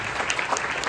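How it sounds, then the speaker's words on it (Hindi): A short, lively burst of audience clapping at a motivational seminar, many hands at once, fairly close and bright for about a second. "तालियां मारो बड़ी बहन।"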